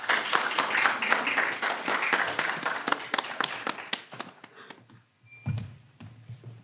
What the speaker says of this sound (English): ith our moderator, Professor Alnoor Bhimani, on stage with a round of applause.